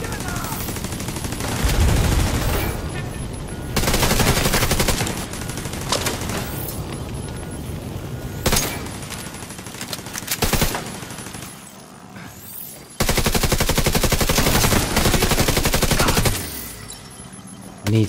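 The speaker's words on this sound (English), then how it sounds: "So I'm being shot at from someone behind as well." Sustained bursts of automatic gunfire from enemies in The Division 2 video game, loud and dense, rattling in long stretches with short pauses between volleys.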